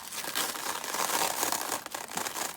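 Close, continuous crinkling and rustling of a thin plastic mailer bag handled during junk journaling with tea bags, dense and crackly with a brief tearing-like crackle.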